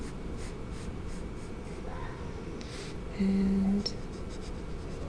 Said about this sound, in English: I'm going to make those lines a little stronger in my drawing